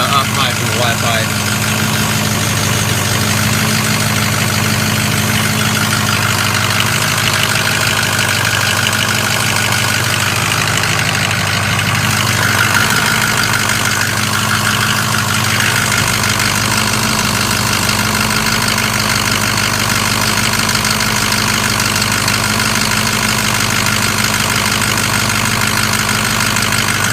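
A car engine idles steadily after a cold start, a loud continuous mid-pitched drone with faint knocking vibration, recorded up close near the exhaust manifold and Y pipe, with someone talking over it.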